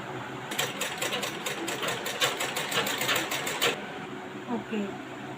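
A sewing machine stitches lining onto thin blouse fabric for a princess-cut blouse, running in a fast, even burst of close, loud mechanical clatter for about three seconds before stopping, with a voice talking over and after it.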